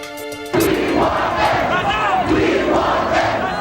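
A large crowd lines the roads during a Chicago funeral procession, with a loud, sustained roar of cheering and shouting voices that swells in steady waves.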